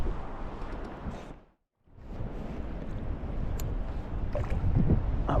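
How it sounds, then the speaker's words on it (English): Wind buffets the microphone during inshore bass lure fishing: a loud, rough rushing roar that briefly drops to near silence before gusting back in, stronger toward the end. "That wind is not helping whatsoever"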